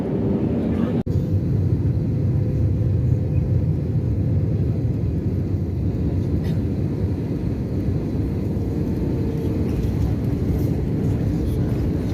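A steady, loud cabin drone fills an Air Sial airliner cruising at altitude over Iran between Jeddah and Islamabad, a continuous low rumble with one brief click near the start and no talking.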